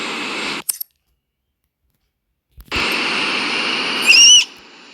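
Simulated Boeing 747 jet engines roar during takeoff in the game SimplePlanes. A loud steady rush cuts out for about two seconds, then returns at full strength, with a high whine briefly swelling near the end.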